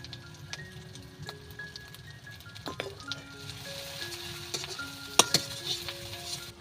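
Spice paste with tarka masala, turmeric and Kashmiri chilli powder frying in a pan, a faint steady sizzle under scattered clinks and scrapes of a spoon stirring against metal.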